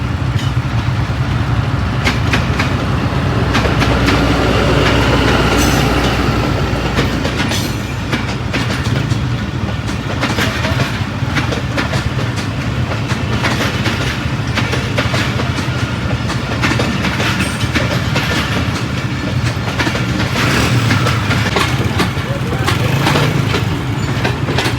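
A train rolls past a railway crossing close by, with loud continuous rumble and rhythmic clickety-clack of wagons over the rails throughout, and faint voices underneath.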